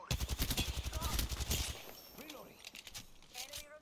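Video game gunfire fills the opening seconds as a rapid, loud, close burst of repeated shots, then it thins to scattered lighter sounds.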